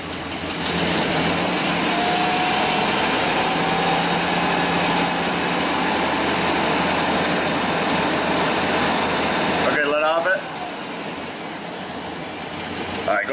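Dodge Dakota engine held at about 2,000 RPM, a steady loud hum and whine that runs without a break for most of the stretch, then cuts out near the end, with a voice heard briefly as it stops.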